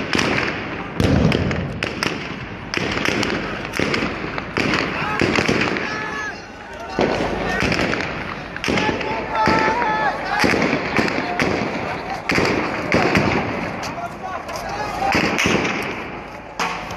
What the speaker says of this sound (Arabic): رصاص حي